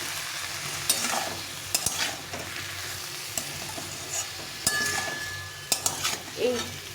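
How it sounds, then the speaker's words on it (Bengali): Mixed vegetables such as flat beans, brinjal, radish and tomato are stirred in a pan with a little water: a bubbling sizzle under repeated scraping and clinks of a spatula against metal, irregular and close. "সামান্য জল দিয়ে নেড়ে দিয়ে ভালো করে নেড়ে চেড়ে নিতে হবে"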